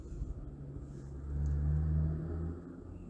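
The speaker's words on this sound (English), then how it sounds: "I'm just waiting for the truck to go by." A truck passes outside, a low rumbling engine that swells to a peak midway and then fades, heard from indoors with no talk over it.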